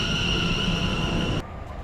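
A subway train in a London station on a football match day rumbles and hums steadily with a high electric whine, then the noise cuts off abruptly, leaving quieter station ambience.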